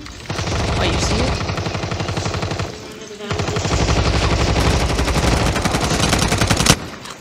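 Gunfire in Call of Duty Mobile crackles as rapid automatic bursts, loud and close, with one brief pause before another long stream of shots ends in a final sharp crack.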